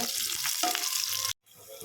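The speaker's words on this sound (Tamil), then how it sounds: "போட்டு நல்லா வதக்கி வதக்கி விடுங்க" Oil sizzles and crackles steadily as halved green chilies fry in a pan, with brief stirring, then cuts off abruptly before a quieter sizzle resumes.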